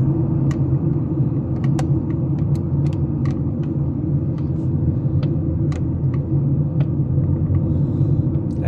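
A car cruises at about 60 to 70 km/h along Jumeirah Road in Dubai, giving a steady low road rumble with faint ticks and no voices.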